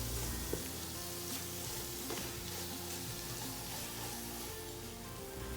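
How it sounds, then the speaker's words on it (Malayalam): Meat masala and chilli powder sauté on a low flame in a pan for Kozhikode beef dum biryani, giving a steady, close sizzle with faint stirring clicks throughout. "ഇതെല്ലാതും കൂടെ ചേർത്ത് ലോ ഫ്ലെയിമിൽ വെച്ചിട്ട് നന്നായിട്ടൊന്ന് വഴറ്റിയെടുക്കാം"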